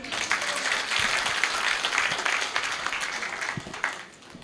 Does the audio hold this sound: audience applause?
yes